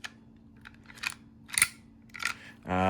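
Replica percussion revolver hammer being cocked, a Denix or Kolser Colt 1851 or 1860 Army style pistol, giving several sharp metallic clicks close up with a quick double click, followed by a louder onset at the end.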